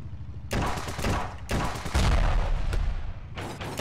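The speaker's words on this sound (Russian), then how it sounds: "только слышу выстрелы." Bursts of rapid gunfire in the video game Ravenfield crackle in quick succession, loud and close, with brief pauses between volleys and no talking.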